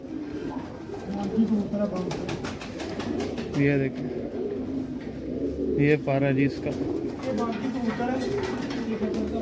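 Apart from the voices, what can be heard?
Teddy pigeon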